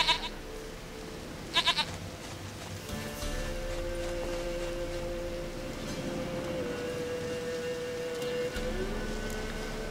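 Goat bleating in The Witcher 3: Wild Hunt, a few short bleats early on, then a steady game ambience with a sustained tone underneath.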